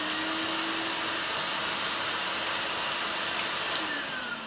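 A freshly plugged-in vacuum cleaner runs at a steady, loud, whining roar, with a faint tone that drifts in pitch and the motor easing slightly toward the end.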